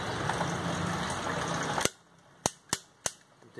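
Torque wrench clicking while a cylinder head bolt on a Maruti 800 engine is tightened, heard after a burst of steady noise stops: three or four sharp, separate metallic clicks, close and clear with short gaps between them.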